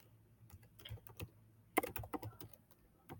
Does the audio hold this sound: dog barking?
no